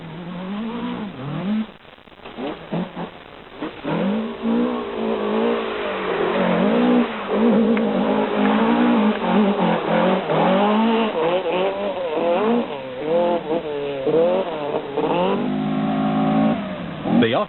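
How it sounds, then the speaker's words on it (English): Nissan Bluebird rally car with a new twin-cam engine racing in a 1984 rally, engine revving and rising and falling in pitch under continuous commentary. "certainly appreciating the extra power in the Bluebird's new twin-cam motor"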